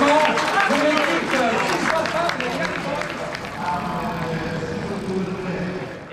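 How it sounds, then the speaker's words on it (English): Crowd at a velodrome applauds Chris Boardman and Jens Voigt, steady clapping from many hands that fades gradually, while an announcer's voice runs over it through most of the stretch. "Magnifique applause for Chris Boardman and Jens Voigt."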